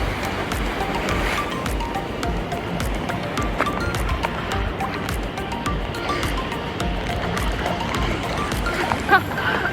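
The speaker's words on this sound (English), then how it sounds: "we went to the beach and swam, and the waves were perfect." Steady rushing ocean surf at a Costa Rica beach fills the whole stretch, a continuous wash of breaking water with faint scattered clicks, no talking over it.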